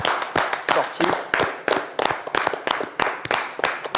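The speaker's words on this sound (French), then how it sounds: "Voilà, nous allons l'applaudir comme de beaux" A small crowd applauds in tribute to a recently deceased boxer, with irregular, close hand claps in uneven bursts that rise and fall over several seconds.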